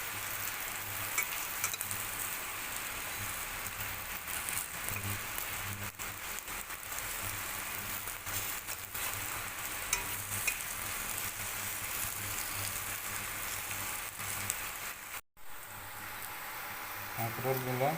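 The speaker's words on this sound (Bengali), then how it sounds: "এগুলোকে লাল লাল করে ভেজে নিচ্ছি" Boiled spiny gourd (kakrol) slices fry in oil until reddish, giving a steady, dense, rain-like sizzle that runs unbroken and fairly loud, with a brief drop near the end.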